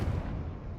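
A single Confringo blasting curse explosion in the Hogwarts Legacy video game: one short, heavy booming hit with a low rumbling tail, loud and close, lasting under a second.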